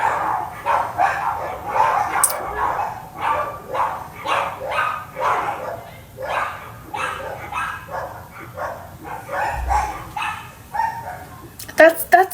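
Two dogs bark and yelp repeatedly as they scuffle, a steady run of sharp close barks with whimpers mixed in, with people talking over them indoors.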